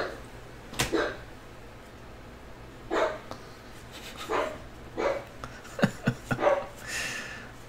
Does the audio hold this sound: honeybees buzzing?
no